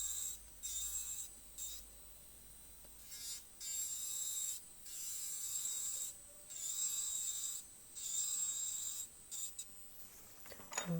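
An electric nail drill runs at 14,000 RPM while shaping hard gel nails, giving a steady close high-pitched whine that repeatedly cuts out and resumes in short bursts.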